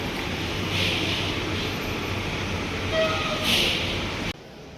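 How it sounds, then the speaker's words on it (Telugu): A small, modern railway station at Padang Besar on the Malaysian side of the Thailand–Malaysia border carries a steady train rumble with faint squeals, then drops abruptly to quieter ambience near the end. "మలేషియా వైపు ఉన్న రైల్వే స్టేషన్ ఇది."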